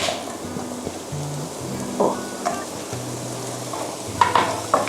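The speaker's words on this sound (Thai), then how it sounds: "กระเทียมเนี่ยเราจะผัดไปพร้อมกับ หอมใหญ่เลยก็ได้ค่ะ" Garlic and onion stir-frying in a pan for Korean topokki, a steady soft sizzle with occasional clicks and scrapes of stirring, and faint background hum.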